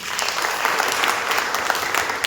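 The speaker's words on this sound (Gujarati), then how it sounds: "બંને ભાઈઓ માટે તાળી પાડીએ." A church congregation at a Passion Week sermon claps together, a dense, even wash of applause sustained for a couple of seconds without talk.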